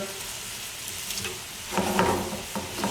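Garlic shrimp sizzles in a pan over raised heat, a steady hiss that swells louder partway through with bursts of crackle and the scrape of stirring.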